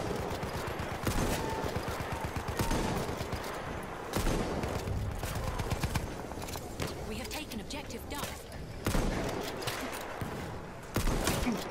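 Rifle fire in Battlefield 1, including the Arisaka rifle, comes as repeated sharp shots and bursts in a loud battle mix, with a player talking over the gameplay.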